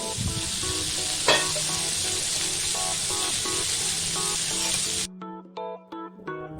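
Vegetables and hilsa fish sizzle on a dry tawa as a steady, moderately loud frying hiss with one brief sharp scrape partway through, then the sizzle cuts out and leaves intermittent tonal sounds.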